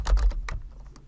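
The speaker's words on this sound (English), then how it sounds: "We're going to just start typing these in." Quick clatter of computer keyboard keys being typed in a burst of several keystrokes, close and fairly loud, then a few sparser taps trailing off, with no voices.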